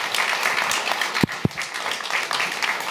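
An audience applauds a speaker at a talk on climate and democracy: a steady wash of many hands clapping for about three seconds, with a couple of sharper claps standing out near the middle.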